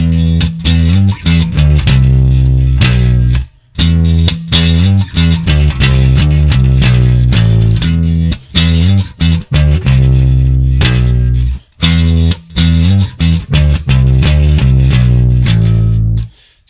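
Heavier variation of a song's riff played on bass guitar with a distorted, effects-laden tone; loud and sustained, with repeated riff phrases broken by short pauses and no talking.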